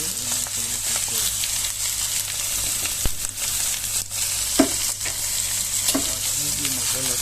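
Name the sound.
mutton frying and sizzling in a pot while cooking tehri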